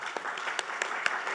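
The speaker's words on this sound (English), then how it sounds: "let's get a big round of applause" Applause from an audience, a steady wash of many hands clapping at moderate volume throughout.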